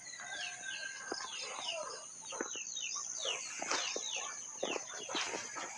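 Chickens cluck and squawk repeatedly in short bursts, close by, with chirping birds in the background and no talking.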